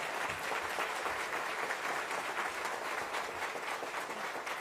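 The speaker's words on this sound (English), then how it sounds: "So a round of applause for our elected officials." Sustained applause from a breakfast gathering in Detroit for elected officials, a fairly quiet, even wash of many hands clapping that continues steadily throughout.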